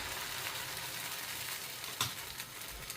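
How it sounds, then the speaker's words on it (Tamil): Appam batter ladled into a hot pan sizzles and fries steadily, with one brief louder crackle partway through and no voices. "இப்போ நாங்கள் ஒரு கரண்டி மாவு எடுத்து சட்டியில் விட்டு கொள்ளலாம்"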